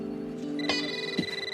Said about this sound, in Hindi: अरे वो यहाँ पर फोन बज रहा है।